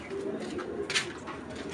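Giribaz pigeons, a male and a female, give a low, continuous cooing at moderate volume nearby, with a brief brighter rustle partway through.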